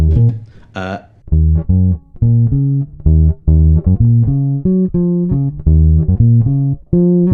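A plucked electric bass plays a bouncy, syncopated line of short notes in the style of a well-known bass line, clear and upfront with no other instruments.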